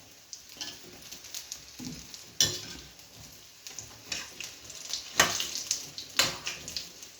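Mirchi bada, battered chilli fritters, fry in oil with a soft continuous sizzle broken by sharp clinks and scrapes of a utensil against the pan, close and moderately loud.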